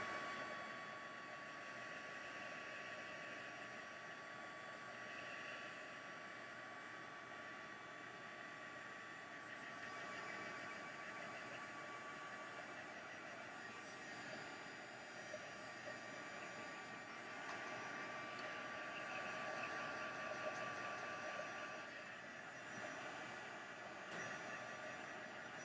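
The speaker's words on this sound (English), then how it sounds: "So I'm just going to dry it for just a second just to make sure it's really dry." A heat tool blows on a freshly stamped card, a steady, even hum and airy rush held for the whole stretch with little change in loudness and no speech.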